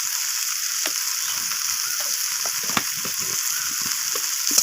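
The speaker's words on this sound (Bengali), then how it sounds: "তো আবারও সব কিছু একটু সময় নিয়ে কষিয়ে নিচ্ছি ভালোভাবে।" A spiced fish curry with ginger and salt sizzles and fries steadily in a pan while it is stirred, with scattered scraping and knocking from the stirring over the continuous hiss.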